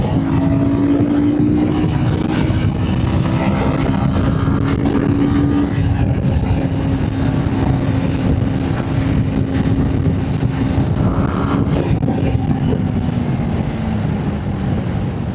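Royal Enfield Guerrilla 450 motorcycle accelerating hard in a drag run, a loud steady engine drone with a rising then sustained tone and wind rush, close and continuous throughout.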